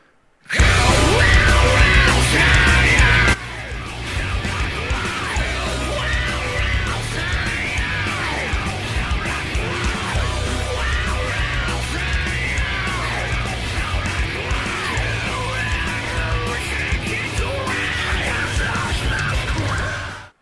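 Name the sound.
band music recording with screaming vocals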